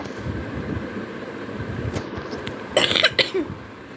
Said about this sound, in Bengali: আমার একটু কাশি আছে